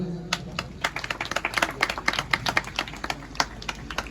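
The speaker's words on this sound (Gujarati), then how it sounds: "તાળીઓથી વધાવી લો." Applause from a crowd at a village fair, many hands clapping in irregular bursts that build toward the middle and stay steady for several seconds at moderate distance, with faint speech underneath.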